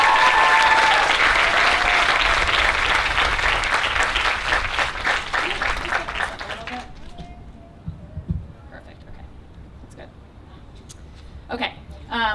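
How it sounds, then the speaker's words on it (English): A crowd at a physician assistant program white coat ceremony claps loudly and steadily, the applause thinning and dying out after about seven seconds, followed by scattered movement and a voice speaking in the room. "So just another round of applause for this amazing leader"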